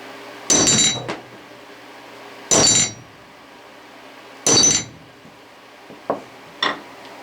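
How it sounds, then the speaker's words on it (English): Deadblow hammer and standard ball peen hammer striking a hard surface, three loud sharp metallic strikes spaced about two seconds apart, followed by two quieter clinks from the rebound. "Now watch the rebound on these two hammers."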